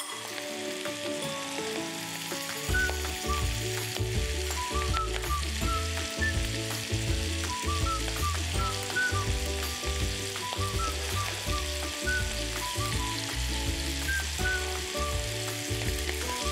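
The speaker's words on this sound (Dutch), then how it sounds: "En dan beginnen we met de sausijsjes te bakken." Sausages sizzle and fry in butter in a pan, a steady loud crackle running throughout with no talk, the frying starting up after a brief quieter moment.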